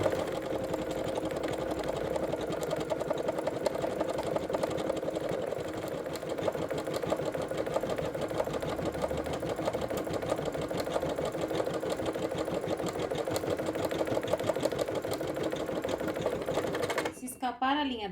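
An Ambition 640 sewing and embroidery machine stitching an embroidery design with a fast, steady mechanical chatter of needle strokes that runs evenly and close for most of the stretch, then breaks off abruptly near the end.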